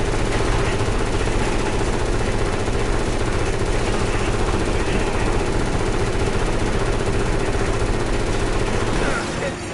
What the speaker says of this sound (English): Start shooting the barrels if you can.